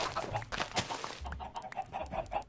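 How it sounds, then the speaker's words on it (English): Minecraft chickens cluck in short, repeated bursts, close and fairly loud, several birds overlapping in a choppy rhythm. "I'm going to have to endure the clucking chuckling unless I kill all those chickens."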